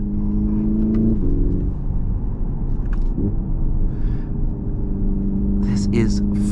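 A 2025 Hyundai Ioniq 5 N electric car drives along with a loud steady rumble and a sustained whirring tone that shifts in pitch, while someone talks over it.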